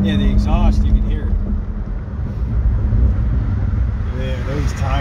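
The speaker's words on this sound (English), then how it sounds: "the exhaust, you can hear" Exhaust of a Chevrolet Corvette Z06 while driving, a steady low rumble heard from inside the car with road and wind noise, and people talking over it.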